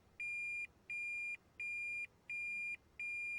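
A Toyota Prius (2010–2015) reverse-gear buzzer beeps five times in a steady rhythm, evenly spaced tones sounding clear and close against a quiet background.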